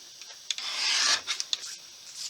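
A photo being trimmed for a scrapbook layout gives a few soft rasping cuts and short rubbing strokes close by, quiet and without talk.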